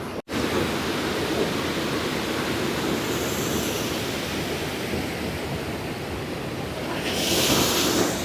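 Steady broadband rush of falling water from the waterfall at Cheonggyecheon Stream in Seoul, continuous and fairly loud, swelling slightly brighter near the end, with no voices.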